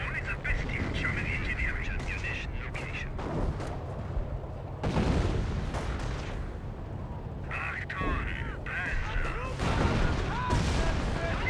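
Artillery barrage in Company of Heroes 1, heavy booms and explosion bursts rolling one after another across the battlefield, with a steady rumble of game noise beneath and talk running over it.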